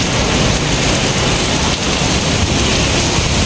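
Heavy storm rain pours down steadily in Vietnam during the rainy season, filling the air with a loud, dense, unbroken roar of downpour on surfaces with no voices.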